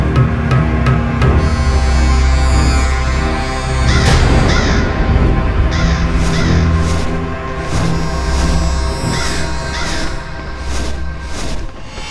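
A crow caws loudly and repeatedly over a busy, dramatic music and effects bed, the harsh calls recurring through the stretch in a mythological children's drama scene.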